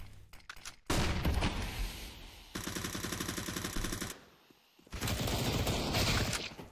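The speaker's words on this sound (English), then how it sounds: "Eku with a great headshot onto Carter." Rapid bursts of gunfire crackle from an esports shooter video game, with sustained automatic fire in several distinct volleys separated by short pauses, fairly quiet overall.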